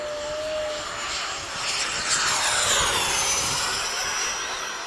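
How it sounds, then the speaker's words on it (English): A steady high whine of an FMS 80mm Hawk RC model jet's electric ducted fan passing close by, rising slightly as it sweeps overhead, with a broad airy roar underneath. "My fan sounds like a vacuum."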